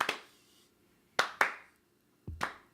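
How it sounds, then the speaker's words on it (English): Slow clap offered as a mock tribute on a sports talk show: a few isolated, sharp hand claps spaced well apart, loud and close, with silence between them and no talk. "We give you the slow clap."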